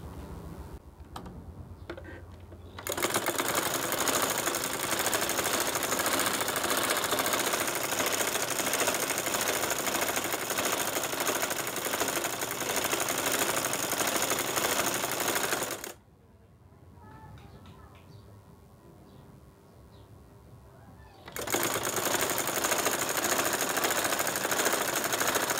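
A sewing machine stitches a size 38 palazzo, running loud and steady in two long bursts with a short pause between them.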